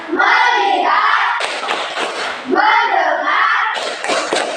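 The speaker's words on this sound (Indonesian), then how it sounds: "Selanjutnya tepuk fokus." Schoolchildren performing the rhythmic 'tepuk fokus' clapping chant in a primary school class, two bursts of loud group chanting with sharp claps mixed in, voices filling the room.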